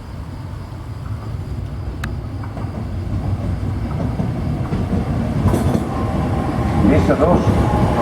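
A Metro del Vallès train runs on line S2 at Plaça Catalunya, track 2, with a loud, steady rolling rumble that builds gradually, and faint squeals and rattles appear near the end.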